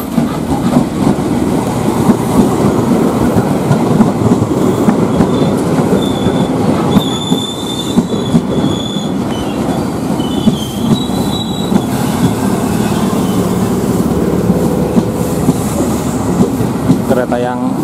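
A rare Jakarta KRL commuter train on the Depok line passes close by, loud, with continuous rumbling, clickety-clack wheels and high-pitched wheel squeals throughout.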